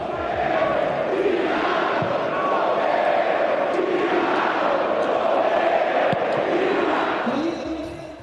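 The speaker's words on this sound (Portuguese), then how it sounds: "tiveram cantos homofóbicos da torcida do Corinthians direcionados ao Ángel Romero" Corinthians football fans chanting in a stadium during a Corinthians versus Palmeiras derby, a rising and falling mass of voices singing in waves, distant and blended, with occasional thuds and shouts in the crowd.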